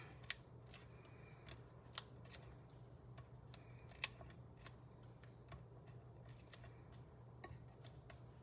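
Soft, sharp snips of scissors trimming designer series paper for a handmade card, a dozen or so irregular cuts close by and faint over a low background hum.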